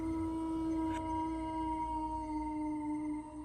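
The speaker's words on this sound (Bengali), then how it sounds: "আর দূর থেকে শিয়ালের ডাক ভেসে আসছে" A jackal howls from far off on a silent winter night near a village, a long sustained wavering tone drawn out across the whole stretch, faint and alone against a quiet background.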